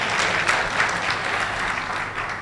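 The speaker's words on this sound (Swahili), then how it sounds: "Naomba tumpigie makofi mengi sana." Applause from a large crowd at a mass wedding ceremony, a steady dense roar of many hands clapping, fairly distant and even, with no talk over it.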